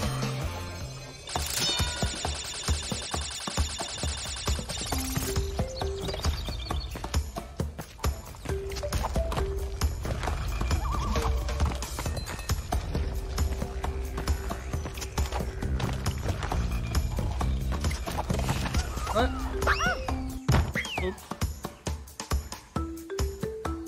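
Donkey hooves clip-clop in steady rhythmic steps in the Crash Bandicoot N'sane Trilogy video game, loud and continuous alongside game music and effects, with a brief whinny-like tone.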